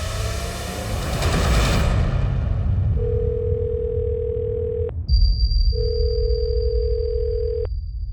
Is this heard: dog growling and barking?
no